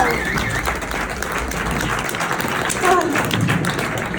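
Audience applause fills a hall, a dense, steady wash of clapping heard close and fairly loud for the whole stretch, with no clear voices over it.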